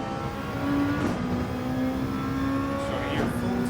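A race car engine held at full throttle in Gran Turismo 7, a steady high-pitched drone that rises and dips slightly with gear changes, loud and continuous from start to finish.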